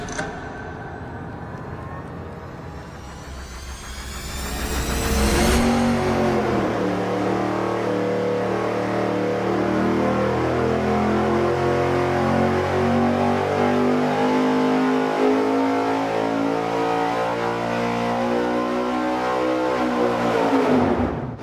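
An engine on a dyno cranks briefly, fires up and then holds a loud, continuous high-rpm pull with a rising roar, close and sustained for roughly fifteen seconds before cutting off, with no talking.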